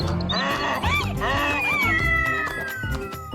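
Cartoon cat meows loudly and close in a run of rising and falling calls that end in one long drawn-out meow, over a steady music bed.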